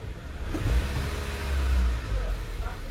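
A Honda BR-V with a CNG kit idles as it switches over from petrol to CNG, a low, steady engine rumble close to the microphone with slight surges in level and no speech.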